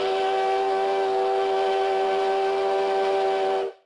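A steam train whistle used as a radio drama sound effect blows one long, steady, piercing blast, loud and close, holding for several seconds before cutting off abruptly.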